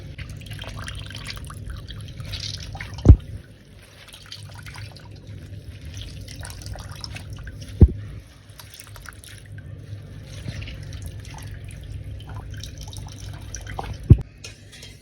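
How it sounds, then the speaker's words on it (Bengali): Watermelon juice straining through into a container, a soft continuous trickle with three sharp single drips or taps spaced several seconds apart, close and fairly quiet, with no talk. "তো তরমুজের জুসটা আমি পুরো বার করে নিয়েছি"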